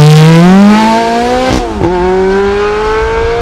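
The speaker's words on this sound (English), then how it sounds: "Dino six-cylinder race prepared engine, pumping out about 220 horsepower." A race-prepared Dino six-cylinder engine of about 220 horsepower, fitted to a light car, revs loudly and close up, pitch climbing steadily. There is a brief dip and gear-change blip midway, then it rises again under sustained throttle.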